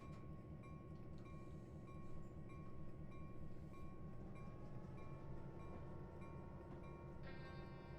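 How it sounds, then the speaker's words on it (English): A freight train rumbles past at Marias Pass, a low, steady rolling drone with faint rail clatter and a few high squealing tones, heard from a distance and fairly quiet, with no voices. "So the train's going to come back in this direction in just a second."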